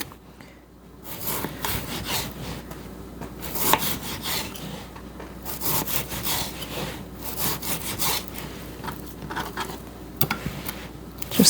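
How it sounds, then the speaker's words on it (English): A knife slices partially frozen beef into strips on a board for beef stroganoff. Repeated close, rasping sawing strokes come in an irregular rhythm, with no talking. "So I'm just going to go through and I'm going to cut it just in these strips."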